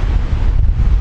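Strong seaside wind at Blackpool buffets the microphone, making a loud, continuous low rumble and roar with no voices.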